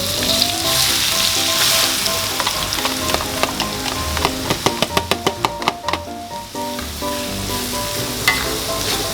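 Shallots and garlic sizzle loudly in hot oil for chicken siomay, a steady dense crackle broken by a run of sharp knocking taps near the middle, then settling back to an even hiss.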